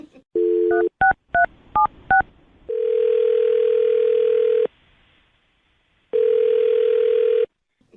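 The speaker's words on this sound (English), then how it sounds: "I'm going to dial her phone number right now." A phone line plays a steady tone, then a quick series of keypad beeps, followed by two long ringing tones separated by a pause.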